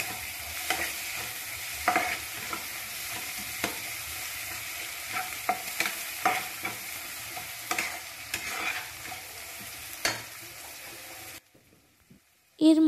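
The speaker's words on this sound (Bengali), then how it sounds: "এবার সব কটা মশলা একসঙ্গে কষে নেব।" Chili and turmeric powder sauté with spices for hichor, a steady loud sizzle with repeated scraping stirs that stops abruptly near the end, followed by a short clatter.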